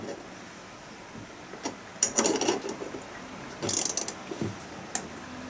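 A bearing puller being tightened to draw a bearing off a Bosch alternator, with a series of metallic ratcheting clicks and creaks in short irregular bursts, close up and moderately loud.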